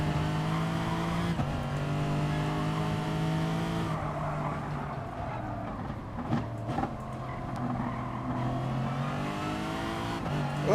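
A Lexus race car engine in Gran Turismo Sport at the Barcelona circuit drones steadily at high revs, with shifts and drops in pitch between gear changes and brief tire noise, loud and continuous throughout.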